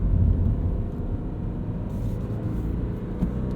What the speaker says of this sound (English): It's not quite that loud, raspy FA20 motor that we've kind of gotten used to in this car.